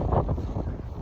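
Strong wind roars across an outdoor microphone in windy, muddy conditions, a steady low buffeting rush with brief gusty swells and no voices.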